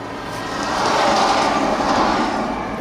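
A Norfolk Southern freight train, pulled by a single GP38-3 locomotive, rumbles past close by, a broad roaring wash of noise that swells in the middle and stays loud to the end.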